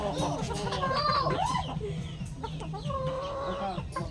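White Kelso hens cluck and squawk close by on a small poultry farm, with a busy, overlapping run of calls, and someone talks among them.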